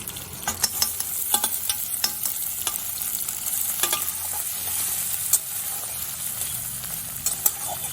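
Chopped tomato and green chillies fry with ginger, salt and turmeric in a pan for a bread chop filling, giving a steady close sizzle broken by repeated scraping stir strokes, with no talking.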